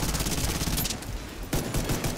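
Pistol fire in the shooter video game The Division 2, a loud volley of quick overlapping shots that stops briefly, then resumes with a sharp burst of further rapid fire.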